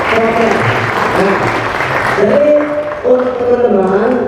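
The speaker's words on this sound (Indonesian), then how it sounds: "kita kasih tepuk tangan untuk Wardah karena telah memberikan voucher" A theater audience at a stage production claps for the sponsor Wardah, a dense, loud burst of applause that thins out as a voice starts talking over it near the end.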